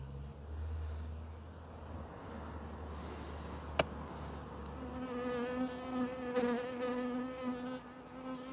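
Honeybees drone around an open beehive whose frames are being handled, a dense, close, continuous buzz that swells as individual bees fly near, with one sharp click partway through.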